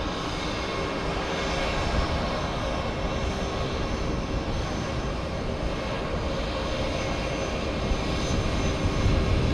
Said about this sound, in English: we also got JetBlue coming on the runway